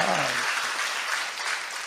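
Sustained applause from a lecture audience in Daegu, dense and fairly loud throughout, with a brief trailing voice at the very start before the clapping carries on alone.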